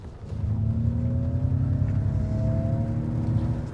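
An electric Ford F-150 plays its artificial acceleration sound, a steady low engine-like drone with faint tones slowly rising in pitch as the truck speeds up, heard alone without talk.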